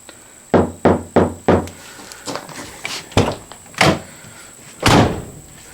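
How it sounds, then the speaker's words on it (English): A car's driver door is shut several times, each closing a sharp, hollow thump close by; four quick slams come first, then a few spaced, louder ones, with a faint steady hum underneath. "I'm going to shut the door, and you'll hear how it sounds"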